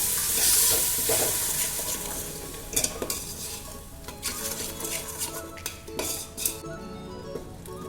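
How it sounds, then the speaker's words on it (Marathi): Masala with onion and tomato paste sautéing in a pan for chicken biryani, a steady close sizzle with repeated scraping and clinking of a spoon against the pan throughout. "आता त्याच्यामध्ये कांदा आणि टॅमॅटोची पेस्ट टाकायची आहे छान परतून घ्यायचं आहे"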